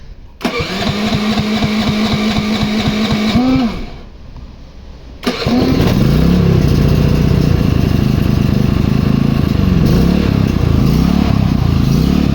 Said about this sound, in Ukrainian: Це є перший запуск, так що бензинка вже ось працює рівненько.